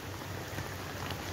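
Steady morning rain on a mountaintop, hissing continuously, a dense even patter with a low rumble underneath, no voices.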